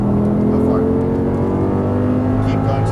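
Audi R8 engine pulling hard on a race track, a steady loud engine drone held throughout under a driving coach's voice.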